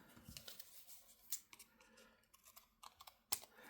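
Scissors snip through dried paper craft pieces, a quiet run of small crisp cuts and clicks close by with two sharper snaps, no talking.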